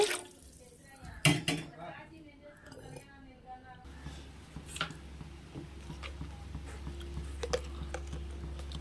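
Plain drinking water poured into a cooking pot while making coconut rice at home, following a few sharp clinks of the pot. The steady pouring wash runs for several seconds at close range.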